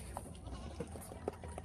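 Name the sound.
goats bleating on a farm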